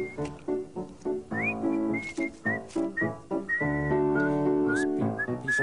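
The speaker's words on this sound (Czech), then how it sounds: "Pískáš mi hezky" A person whistles a lively tune nearby, with short melodic phrases, rising slides and sustained notes over about six seconds, clear and moderately loud with no talk.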